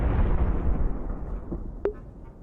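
Explosions in the VRChat video game, a loud, rumbling blast that fades gradually over two seconds, with a brief sharp pop near the end.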